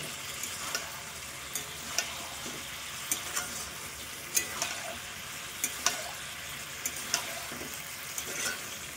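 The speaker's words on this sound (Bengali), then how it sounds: "এখন হচ্ছে সব কিছু দেওয়া হয়ে গেছে, এবার সুন্দর করে কষিয়ে নিতে হবে।" Jackfruit and potato curry with chickpeas stir-frying in a pan, a soft steady sizzle with repeated light scrapes and clinks of a spoon stirring, fairly quiet and without talk.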